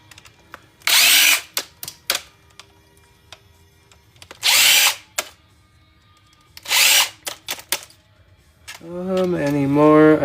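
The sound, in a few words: power drill removing screws from desktop computer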